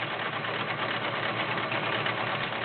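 A Kenmore 1625 convertible sewing machine stitches continuously, a steady, even motor hum with a fast mechanical needle rhythm, close and loud, running alone without pause.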